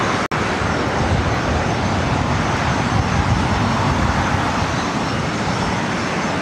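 A Challenger business jet, a NetJets flight bound for San Francisco, takes off from an LAX runway with a loud, steady broadband roar that holds for the whole stretch, broken only by one sharp click near the start.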